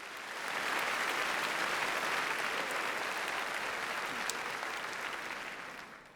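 Sustained applause from a graduation audience in a large hall, a steady dense wash of many hands clapping at moderate distance for several seconds, swelling in quickly and tapering off at the end.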